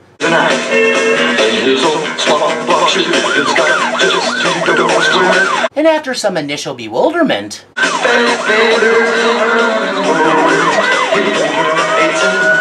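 Police car siren in the 1987 horror film Slaughterhouse, loud wailing sweeps that rise and fall almost continuously, broken by a short gap midway, with someone talking over it.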